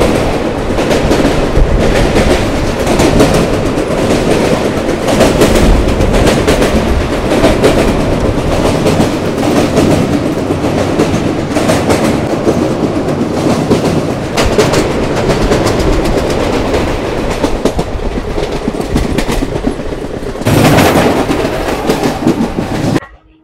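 The Begampura Superfast Express running between Jammu and Varanasi, heard from aboard as a loud continuous rumble with rhythmic clickety-clack of wheels over rail joints, steady throughout before cutting off at the end.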